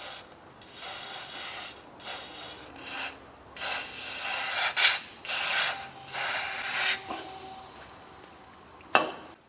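Rust being cleaned from inside the front wheel bearing housing of a Chevrolet Cruze, heard as a series of bursts of rubbing and scraping with short spray hisses in between, close and moderately loud.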